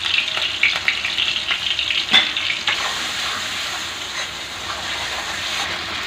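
Tomatoes frying with browned onions, salt, turmeric and chilies in a pan, a loud steady sizzle with a few clacks of stirring near the start, alone with no talk.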